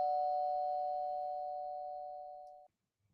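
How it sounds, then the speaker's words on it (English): A doorbell gives one sustained electronic tone that slowly fades and then cuts off sharply, with a faint knock or tap right after. "ringing doorbells?"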